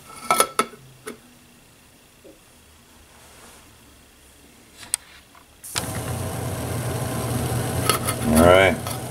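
A backpack stove heating a lidded pot of water toward a boil, with a few clanks and faint quiet at first, then a loud steady roaring hiss of flame and bubbling that builds up close.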